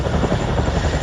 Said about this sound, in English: Like this British Army Chinook helicopter, for example, dropping by to get some extra fuel.